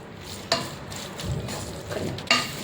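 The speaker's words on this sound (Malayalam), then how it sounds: "ശർക്കര പൊടിച്ചത് മൂന്ന് സ്പൂണുണ്ട് കേട്ടോ അതും കൂടെ കൂട്ടി ഇളക്കാം" Powdered jaggery is stirred into a bitter gourd pickle, with two distinct spoon scrapes against the pot over a faint, soft sizzle, close by and fairly quiet.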